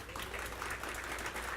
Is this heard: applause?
yes